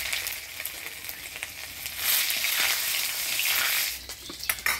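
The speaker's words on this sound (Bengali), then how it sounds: "এবার ডালে ফোড়ন দিয়ে দিব, শুকনো লঙ্কা, তেজপাতা, থেতো করা আদা আর পাঁচফোড়ন" Dried chili, bay leaf, crushed ginger and panch phoron hit hot oil as a tempering for kalai dal, a hiss that swells into a loud, dense sizzle midway before settling, close, with a few clatters and no talking.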